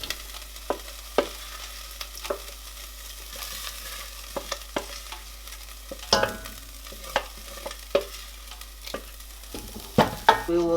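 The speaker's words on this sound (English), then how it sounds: "So we add all our tomato in here." Tomato mixture for Nigerian party jollof rice going into a pot, a soft sizzle beneath repeated sharp clicks and scrapes of a spoon stirring, close and irregular, with a heavier clatter near the middle and end.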